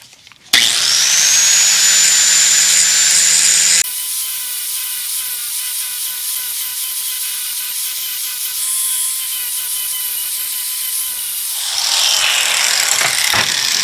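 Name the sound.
grinder used on Mercedes 450SL parts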